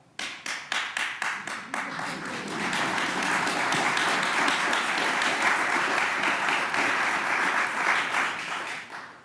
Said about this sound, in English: A certain jurist was the first to applaud